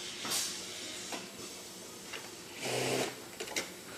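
A sewing machine stitches the tip lining onto the large and small ends of a handmade necktie, running in short, close mechanical bursts separated by brief pauses.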